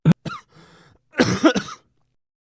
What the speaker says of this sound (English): His coughing grew worse, but he held it together.